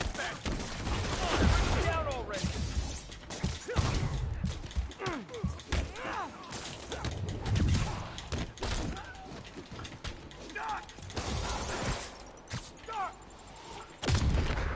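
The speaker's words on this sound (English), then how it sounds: "I'm sick of you shooting me" Repeated gunshots from a Spider-Man video game, scattered bursts of loud close fire over about fifteen seconds, with game voices speaking between and over the shots.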